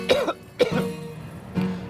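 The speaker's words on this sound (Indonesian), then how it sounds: "Aku batuk, Dek." Three separate coughs from one person, fairly close, short and throaty, spaced out with quiet gaps between them.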